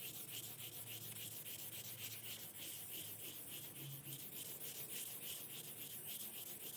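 Furniture being hand sanded with 400-grit sandpaper, a steady, close rubbing scrape that repeats in a quick even back-and-forth rhythm throughout, with no voices.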